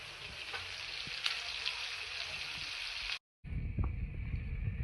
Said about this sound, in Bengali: পেঁয়াজ, টমেটো, লঙ্কা ভাজা শুরু হয়েছে।